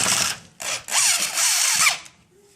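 A power drill drives screws back into an LG convection oven panel in three or four short whirring bursts, close and loud, each spinning up and stopping with quick gaps between.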